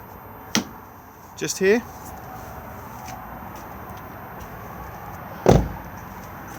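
On an Auto-Trail Scout motorhome, a sharp latch click comes first, then a brief rattling clunk as the gas locker lever is pulled, and a heavier thud lands a few seconds later. All are close. A voice briefly speaks.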